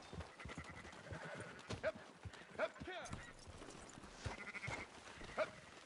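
Faint sheep bleats come and go amid quiet clip-clopping hooves in a PS4 video game, with people talking over them.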